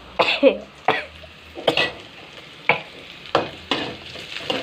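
Green chili, garlic and onion fry on a stove with a low sizzle, broken by several sharp stirring or scraping bursts at irregular intervals, close by and with no talk.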